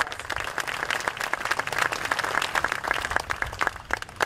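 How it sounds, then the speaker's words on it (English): An outdoor audience at a lei-draping ceremony at Thomas Square applauds the band, steady crowded clapping with distinct individual claps standing out, sustained and fairly close. "let's give them a round of applause"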